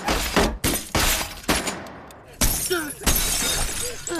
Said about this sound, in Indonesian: Tiba-tiba, Han muncul dan menembaki mereka.